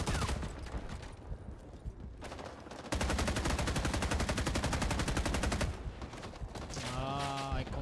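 Automatic gunfire from the Vietnam War shooter Rising Storm 2: Vietnam, with loud sustained bursts of rapid shots filling most of the stretch, brief gaps between volleys, and a musical tone rising near the end.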